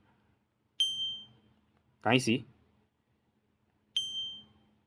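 Two bright ding bell chimes from a Canva sound effect ring out clearly and ring down, evenly spaced, with a brief spoken question between them.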